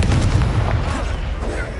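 Levioso spell cast in Hogwarts Legacy on PS5, a loud, dense whooshing blast that starts sharply and stays rumbling for nearly two seconds.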